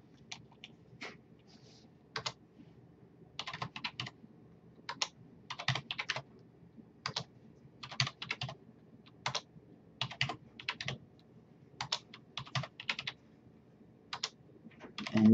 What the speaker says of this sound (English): so we're going to type that data in